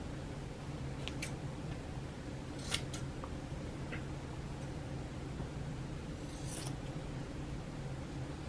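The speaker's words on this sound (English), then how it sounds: "you will cut on an angle" Scissors snipping the corners of a paper bag at an angle, a few sharp crisp cuts scattered over a steady background hiss, close and fairly quiet.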